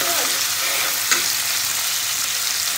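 Village-style chicken curry simmering in a pan, a continuous close sizzling and bubbling hiss with one brief louder pop midway and no voices.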